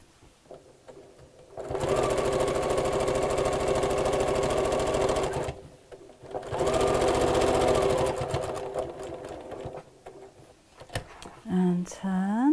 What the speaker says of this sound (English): And sew about 1/4 inch all the way around.